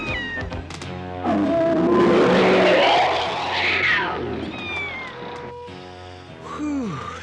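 A voice imitates a manticore's call to scare off a saber cat in a He-Man cartoon, producing loud yowling, cat-like caterwauling cries that swell and fade over several seconds, with brief cartoon voices around it.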